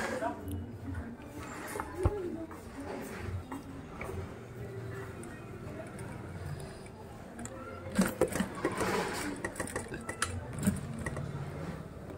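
A sewing machine stitches the waist seam of a garment, a quick rattling mechanical whir with ticking beats, heard under ongoing talk in a busy workshop with occasional clatter.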